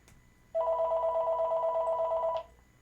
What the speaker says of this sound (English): Now watch, he's gonna come running, answer the phone.